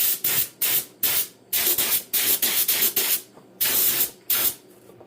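An Aeropro LVLP A610 spray gun sprays paint onto a Farmall 450 tractor in loud, close hissing bursts, about eight triggers of varying length broken by short pauses.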